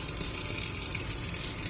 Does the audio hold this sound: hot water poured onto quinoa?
yes